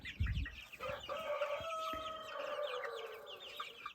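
Chickens crowing and clucking close by, with Amrocks and Bielefelder chicks and turkey poults, a drawn-out crow rising over scattered calls and cheeps, no talking.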